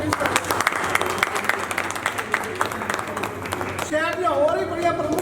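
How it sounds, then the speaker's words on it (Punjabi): Applause from an audience at an art exhibition opening for the guest who inaugurated it, a steady burst of clapping running throughout, with people talking over and after it. "ਇਹਨਾਂ ਲਈ ਜ਼ੋਰਦਾਰ ਤਾੜੀਆਂ"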